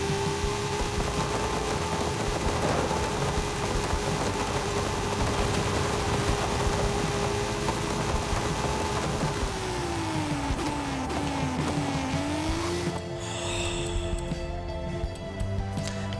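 A classic race car in Forza Horizon 5 revs hard with a sustained, steady engine note. The pitch sweeps down and wavers as it shifts, then gives way to skidding tire noise near the end.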